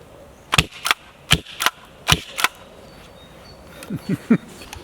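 Airsoft gun with a 12-round drum magazine fired indoors, sharp snapping shots in a quick irregular string of about eight, then a few softer mechanical clacks.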